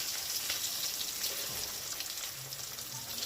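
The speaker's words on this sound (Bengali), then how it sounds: "এই আলুগুলো একদম লাল লাল করে ভেজে নেব।" Potato pieces frying in hot oil for aloo dum, giving a steady close sizzle and crackle that runs throughout, with no talk.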